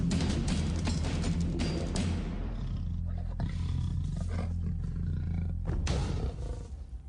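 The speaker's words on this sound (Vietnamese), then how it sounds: "Tiếng gầm là hành động thể hiện cho địa vị thống trị, một bức thông điệp tới láng giềng về lòng kiêu hãnh" A wild lion roars loudly and close, with deep, rough, sustained bellowing lasting several seconds that surges in bursts and then tails off toward the end, with no voices.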